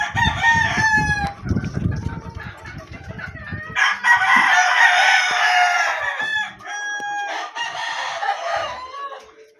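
A young rooster crows nearby, a rough, uneven cock-a-doodle-doo repeated a few times, with hens clucking in between.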